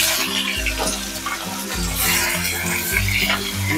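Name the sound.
sautéing garlic and chili paste in pan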